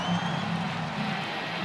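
A hyped New Orleans wrestling crowd at SmackDown roars steadily as the Dudleys make their return, a dense, sustained wash of cheering and scattered applause with no break.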